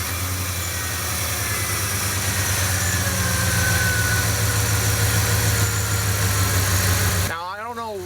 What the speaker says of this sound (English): What motor sounds meaner than this, especially in a SUV?